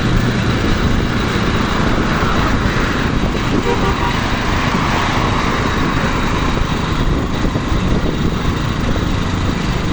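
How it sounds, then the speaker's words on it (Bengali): Fast vehicles stream along a multi-lane highway at Gabtoli, Aminbazar in Dhaka, making a loud, continuous rush of engines and tyres close by. A faint voice may sit under the traffic. "খুব স্পিডে এখান দিয়ে গাড়ি চলাচল করে।"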